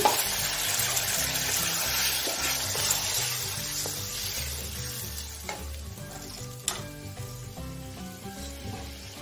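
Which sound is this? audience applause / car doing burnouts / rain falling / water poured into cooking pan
water poured into cooking pan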